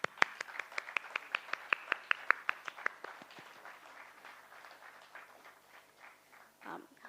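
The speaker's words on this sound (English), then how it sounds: "A round of applause for NSE" Applause for the National Stock Exchange at a company listing ceremony: a burst of sharp, fairly close claps settling into softer, spread-out clapping that dies away, ending with a brief voice.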